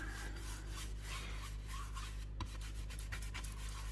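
Wax is rubbed by hand into a wooden canvas frame, giving a soft, steady brushing friction with faint stroke pulses, close but low in level, with no talking.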